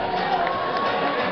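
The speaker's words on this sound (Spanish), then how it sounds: "Al aplauso que para Lucas" An audience applauds and cheers for contestant Lucas, participant number three, as he takes the stage; a dense, steady wash of clapping and crowd noise fills the whole stretch at close range.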